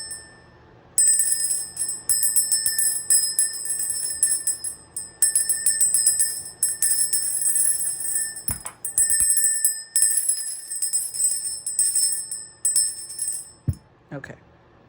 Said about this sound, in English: I haven't rung the bell.